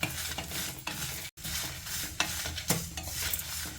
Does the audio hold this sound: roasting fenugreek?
yes